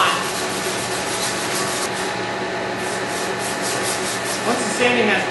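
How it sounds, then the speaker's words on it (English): Steady abrasive scraping of sandpaper rubbing back and forth over a hard pipe surface, close and continuous for several seconds. "Once the sanding has been completed"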